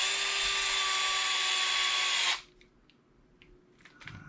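A power driver tightens a shock retainer bolt on a Traxxas X-Maxx RC truck, a loud steady high whir for about two seconds that stops abruptly, followed by faint small clicks and handling noises.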